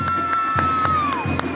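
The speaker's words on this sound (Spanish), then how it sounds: "¡Fuerte los aplausos!" Quinceañera guests cheer and applaud at a Mexican-themed party, a steady crowd roar with rhythmic broadband claps, plus a sustained tonal whistle or music line running underneath.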